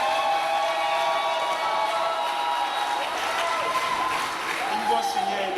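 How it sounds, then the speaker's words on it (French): Guests applaud a wedding couple in a steady wash of clapping from a crowd, heard underneath a person speaking loudly throughout. "If it is your joy, please give them a hand."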